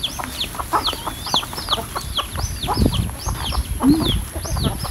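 Farm chickens kept as pets cluck and chirp repeatedly in a busy, close flock, with overlapping short calls and scratchy background noise outdoors.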